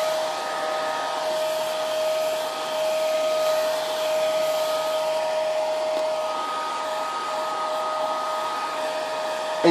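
Hair dryer blowing steadily on wet paint on a Tardis pencil box, a close, continuous whine with a fixed tone that runs unbroken throughout.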